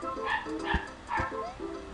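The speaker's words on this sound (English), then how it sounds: "Sorry about that, that's my dog." A pet dog yips and barks a few times in short bursts close by, heard over the background sound of a Super Mario Bros. All-Stars game session, with some faint voice-like noise mixed in.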